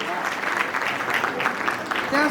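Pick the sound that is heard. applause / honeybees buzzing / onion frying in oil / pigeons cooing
applause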